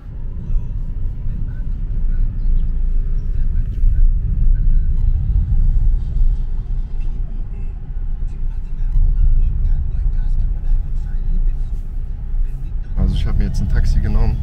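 Steady low engine rumble and road noise from inside a taxi riding through a city in Thailand, constant and fairly loud, with a sharper clatter near the end.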